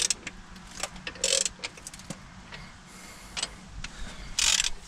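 Power tool running down bolts on a Merkur/Ford Sierra Turbo, heard as short ratcheting, whirring bursts with clicks and mechanical clatter between them, fairly close with no talking.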